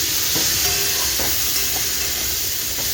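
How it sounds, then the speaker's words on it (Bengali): Yardlong beans fry in a pan with a steady, continuous sizzle and hiss, joined by a few soft stirring clicks, heard up close and alone with no talk. "এখানে হচ্ছে বরবটি ভাজা"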